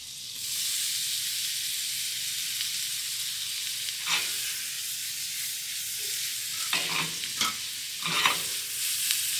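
Diced onions frying in slightly browned butter in a pan, a steady bright sizzle with a few scraping stirs and clinks toward the end, no voices.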